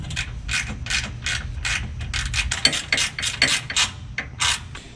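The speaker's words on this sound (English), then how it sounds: "So I'm gonna go ahead and reinstall these 10mm bolts." A hand ratchet tightens 10mm heat shield bolts on a Jeep, a rapid run of sharp metallic clicks in short repeated bursts, close and fairly loud, with no voices.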